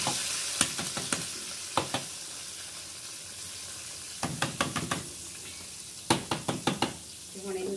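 Spice masala being stirred and roasted in a pan on a clay village chulha, with clusters of sharp scraping knocks of the spoon against the pan over a soft steady sizzle, close and fairly quiet.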